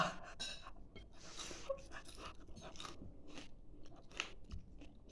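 Close-up crunching and chewing of a crisp fish head, irregular bites with soft breaths in between, quiet and alone.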